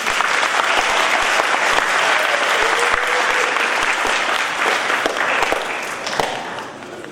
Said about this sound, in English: another round of applause to Sofia and Anna